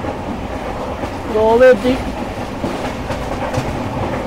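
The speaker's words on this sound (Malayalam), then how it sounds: "ഇനി തിവിയും ലക്ഷ്യം വെച്ചാണ് ട്രെയിൻ കുതിക്കുന്നത്." A passenger train runs along the Konkan Railway on the Goa coast, a steady rolling rumble throughout with a brief louder swell midway, while a person speaks over it.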